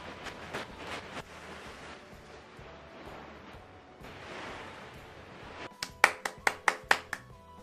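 Hand clapping in a French-language lesson: a few scattered claps early on, then a quick burst of seven sharp, evenly spaced claps close by near the end.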